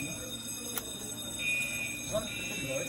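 An alarm on a clean-agent gas fire suppression system (Novec 1230 / FM-200) sounds during testing, a steady high-pitched electronic tone that continues underneath someone talking, with a few brief clicks.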